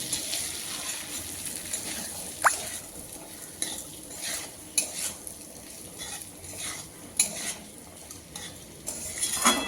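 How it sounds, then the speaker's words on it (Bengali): Potatoes and peas are stir-fried with spices in a pan, with a rhythmic series of close scrapes and clinks from a metal spatula over a soft, continuous sizzle, and no talking. "আলু আর মটরশুঁটি আমি মশলার সঙ্গে আরও 2 মিনিট সময় ধরে কষিয়ে নিচ্ছি।"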